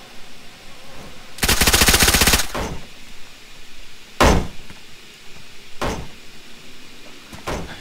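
Gunfire in the video game DayZ is fired through a wall: a loud, rapid automatic burst of about a second, followed by a few single sharp shots spaced out over the next several seconds.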